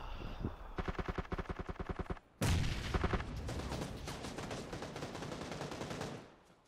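Enemy gunfire in a first-person shooter video game, with a rapid burst of repeated shots, a sudden loud blast, then sustained overlapping automatic fire fading out near the end.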